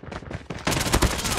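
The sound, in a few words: sniper gunfire in Call of Duty: Mobile video game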